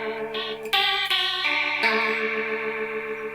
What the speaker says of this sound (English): So this is regular chorus.